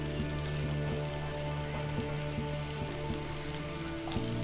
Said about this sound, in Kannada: ಇನ್ನು ಸ್ವಲ್ಪ ಎಣ್ಣೆಯಲ್ಲಿ ಫ್ರೈ ಮಾಡ್ಕೋಬೇಕು ಮೂಲಂಗಿನ